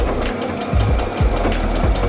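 A home sewing machine stitching fabric bunting, its motor whirring in rapid uneven bursts with repeated low mechanical thumps as the needle drives through the cloth, close and fairly loud.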